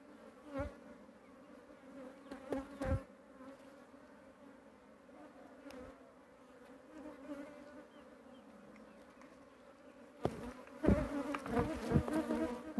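Honeybees buzz around a queen cage smeared with honey during a queen swap in a rescued colony, a continuous close droning hum with sharp louder surges as individual bees pass near, and no talk.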